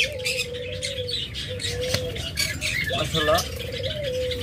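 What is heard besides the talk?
pet cage birds (budgerigar/lovebird) calling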